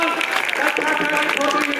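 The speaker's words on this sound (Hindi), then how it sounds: "हेड गर्ल के रूप में खुशबू का जोरदार तालियों से स्वागत करिए" Students at a school result announcement applaud loudly for the newly chosen head girl, giving a continuous, fairly close crowd clapping with voices mixed in.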